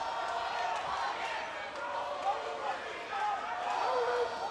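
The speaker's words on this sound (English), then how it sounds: "the crowd really trying to urge McCrory over the line here" A partisan crowd at an outdoor boxing night in Falls Park roars and urges a home fighter on in the last minute of a bout, a continuous distant swell of voices under a commentator talking.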